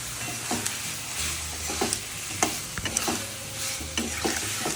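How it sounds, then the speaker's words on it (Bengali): Small potatoes fry in spiced oil in a pan, with a continuous close sizzle broken by repeated scraping and stirring strokes. "এবারে আমি এর মধ্যে আলুগুলো দিয়ে দিলাম ভাজা।"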